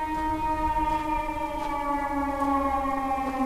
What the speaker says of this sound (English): Air raid sirens, like, of course they do sound scary